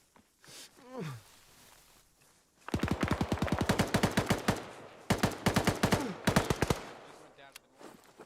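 Long bursts of M249 machine gun fire in the Arma military game ring out in sharp rapid rattles, three strings of rounds separated by short pauses, preceded by a faint groan and quiet movement.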